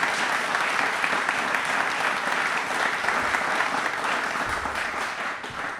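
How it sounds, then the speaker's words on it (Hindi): Sustained applause from a studio audience at a Republic Day quiz programme, steady and dense throughout, tapering slightly at the end, with no talk over it. "दूरदर्शन की पूरी टीम के लिए भी तालियां एक बार जोरदार होनी चाहिए"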